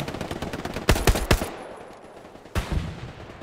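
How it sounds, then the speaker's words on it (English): Three quick bursts of machine gun fire in the World War II shooter Hell Let Loose, close and sharp, followed after a pause by another single loud crack, with a low rumbling battlefield backdrop. "Guy's a fucking MG right there"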